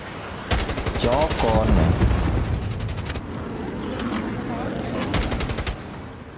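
Rapid bursts of gunfire as a fighter jet fires at a plane in a video game, loud machine-gun rattles in two main volleys, with someone shouting over them.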